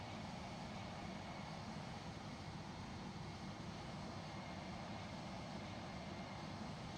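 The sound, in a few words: British Airways A320 engine at cruise in video game FlightGear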